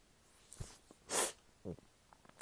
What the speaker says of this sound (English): Sorry if I'm sneezing.